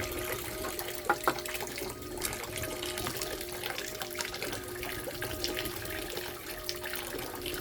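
Steady rush of water flowing over a gold sluice set up to recover super fine gold, a continuous broadband wash with no speech, plus two brief sharp clicks near the start.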